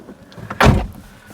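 The car door of a Ford Escort Mk6 1.8TD swings shut with one solid, close thud followed by a brief rattle, heard alone against faint background.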